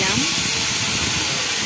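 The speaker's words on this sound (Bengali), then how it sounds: "আলুর দমে জিরে ফোড়ন দিলাম" Cumin seeds sizzle in hot oil for aloo dum, making a loud, continuous, close hiss that fills the whole stretch without pause.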